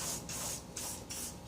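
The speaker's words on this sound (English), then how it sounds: "Just get you some spray." Cleaner sprayed from a hand bottle onto a power head, four quick hissing bursts in an even rhythm, close and fairly soft.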